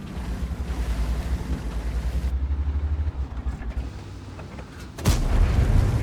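In the online game World of Tanks, a tank cannon fires a single heavy boom near the end, after several seconds of low rumbling engine and battle ambience.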